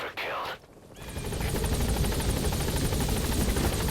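An extraction helicopter in Metal Gear Solid V thumps in with loud, continuous rotor chop that builds and then holds steady. It follows a brief burst of other game sound at the start.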